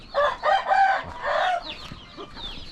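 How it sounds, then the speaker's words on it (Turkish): A chicken clucks in several loud, close bursts, followed by softer, quieter chirping calls. "Bu tavuğumuz bekliyor heyecanla."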